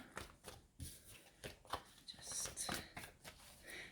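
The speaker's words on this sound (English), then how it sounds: "So I'm just shuffling the cards now a little bit more." Soft riffling and tapping of tarot cards being shuffled close by, in short repeated bursts with quiet pauses between.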